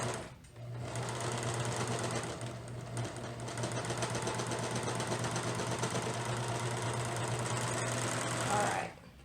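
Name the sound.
serger overlock sewing machine stitching fabric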